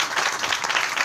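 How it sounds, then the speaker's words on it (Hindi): An audience at a devotional gathering at a new preaching center claps in honor of a woman, a brief burst of many hands clapping steadily and fairly loud, with no voices. "इसलिए आप श्री विमला देवी का नाम पर थोड़ा ताली हो जाता"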